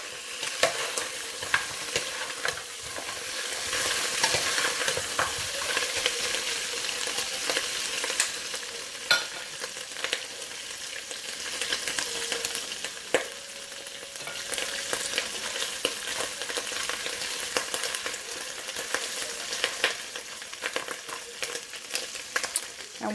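Pork for BBQ ribs being stirred and browned in a hot pan, with continuous close sizzling and frying broken by frequent scraping and clacking of the utensil as the meat is tossed around.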